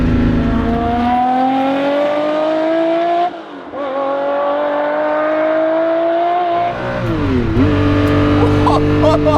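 A Ferrari F50's engine revs hard while driving, a loud, rising high-pitched wail that climbs through the gears, briefly drops on shifts, then climbs again, heard from inside the car.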